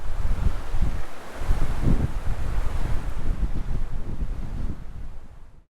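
Strong wind buffets the microphone while fishing with a tenkara rod outdoors, a loud continuous rumbling roar that fades out at the end.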